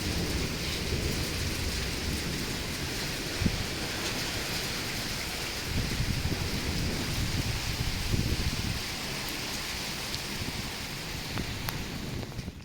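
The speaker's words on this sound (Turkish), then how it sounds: "Yağmur öyle yağıyor öyle yağıyor ki maşallah maşallah" Heavy rain pours steadily throughout, with low rumbling thunder swelling in the middle and a few sharper cracks, no voices.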